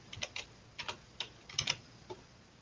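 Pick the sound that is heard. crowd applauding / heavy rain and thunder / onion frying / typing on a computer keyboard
typing on a computer keyboard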